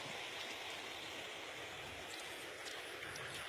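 Floodwater rushes through a flooded village in Muzaffarpur, Bihar, as a continuous, loud broadband roar of flowing water with no pauses and no talking.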